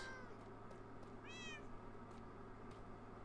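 A cat meows in the Minecraft video game, a couple of short rising mews standing out over a steady low game-ambience hum.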